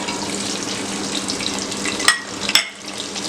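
Diced onions, tomatoes and cashews hit hot oil in a pan over a high flame, giving a bright, steady sizzle and crackle with two sharp clinks of a utensil near the end.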